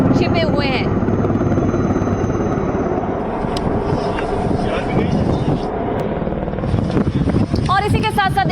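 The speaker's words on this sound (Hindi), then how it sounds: "तस्वीरें आप देखिए, हेलीकॉप्टर से सर्च ऑपरेशन किया जा रहा है।" A helicopter flies during an army search operation in Jammu and Kashmir, its loud, continuous rotor thrum steady throughout, with people talking over it.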